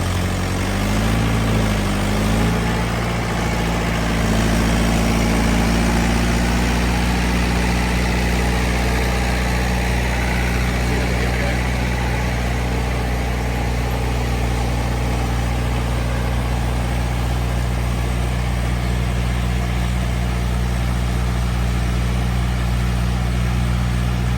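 Double-clutch tractor engine running in a farm field, a loud, steady low diesel drone and rumble with constant mechanical noise, holding nearly unchanged throughout.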